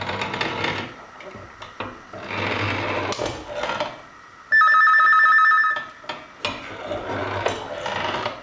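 A telephone rings once in a jewellery workshop where a silver bracelet is being made. The electronic ring lasts about a second, standing out over scraping and filing noises at the bench.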